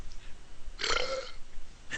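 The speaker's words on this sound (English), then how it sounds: "I don't think it belched loudly enough" A single loud belch after a swig of Mountain Dew, lasting about half a second in the middle, surrounded by quiet room noise.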